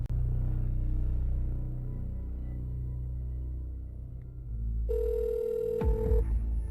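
A telephone call placed to a hospital: a low steady hum and ring tone on the line, then higher tones and a brief clatter near the end.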